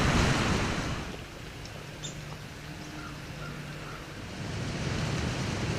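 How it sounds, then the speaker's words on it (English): Wind blowing at 15 to 20 across a Midwest whitetail hunting spot in the rut, a soft rushing buffet on the microphone that gusts stronger at the start and end with a faint lull between, no talking. "The wind's kicking about 15 to 20."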